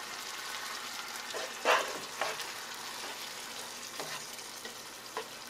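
Tomato sauce, water and ground beef simmering and frying in a pan over medium heat, a steady soft sizzle with a few louder scraping stirs as a spoon moves through the mixture.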